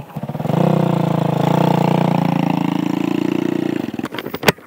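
A Honda Click 150 scooter engine runs steadily up close, a buzzing, even putter that holds for several seconds before dropping off into a few clunks and knocks.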